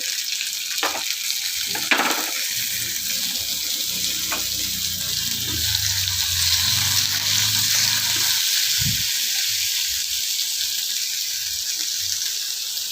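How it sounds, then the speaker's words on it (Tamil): Garlic frying in hot oil with curry leaves and coriander, a steady close sizzle running throughout with occasional stirring knocks. "இந்த பூண்டு நல்லா வதப்படட்டும்"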